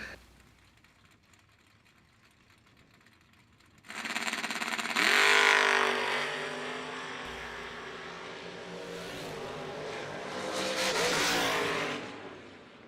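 Drag racing cars, among them the Shake and Bake Camaro, launch at a winter warmup event: a quiet idle gives way to a sudden loud roaring launch, then a sustained engine scream that swells again before fading.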